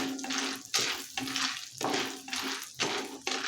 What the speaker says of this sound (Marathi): बटर मेल्ट झालेलं आहे यानंतर याच्यामध्ये पॉपकॉर्न टाकायचं आहे आता हे मिक्स करायचं हलवून घ्यायचं